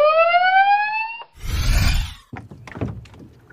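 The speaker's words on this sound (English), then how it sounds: "Rescue boat." Rescue boat siren sounding as a rising, wailing tone that ends in a thunk, followed by a rushing burst and a few clattering knocks.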